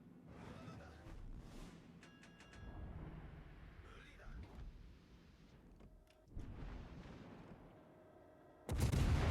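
Naval guns boom in the video game World of Warships: Legends, scattered distant thuds and rumbling blasts leading to a loud heavy salvo at the end, while a player talks over the action.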